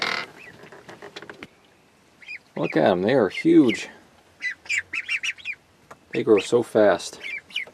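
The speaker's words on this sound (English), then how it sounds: "So let's say hi to the ducks." Ducks quacking in a chilly covered coop, bursts of loud nearby calls in two main clusters, with a person talking over and between them.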